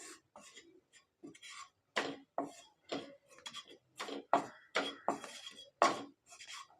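A spoon scrapes and taps against a pan while wheat flour is stirred and roasted, giving a quiet, irregular run of clinks and scrapes, close and dry, with no talking.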